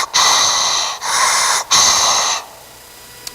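A voice imitates heavy breathing: three long, loud, raspy breaths in steady rhythm, close to the microphone, followed by near silence.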